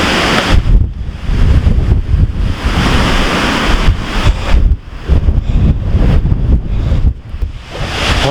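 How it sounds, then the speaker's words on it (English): Strong wind roars around hikers on a mountain trail at Goode's Basin near Kelowna, British Columbia, buffeting the microphone in loud gusts that surge and briefly ease over several seconds. "Oh, you can just hear the wind around us."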